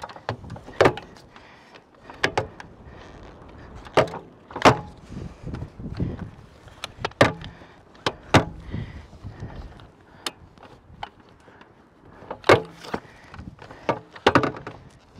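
A rooftop tent being pressed in and slid up to stow gives a series of sharp clunks, knocks and scraping thuds at irregular intervals, close and fairly loud, with quieter rustling between them.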